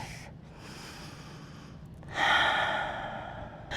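Ujjayi pranayama breathing during a power vinyasa yoga class: slow, audible breaths with a soft oceanic hiss, a longer exhale followed by a stronger airy inhale, close and alone without talk.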